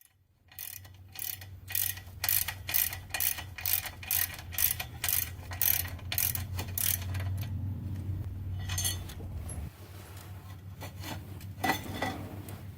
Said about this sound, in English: I'm going to start by going around and just breaking all the bolts loose in a star pattern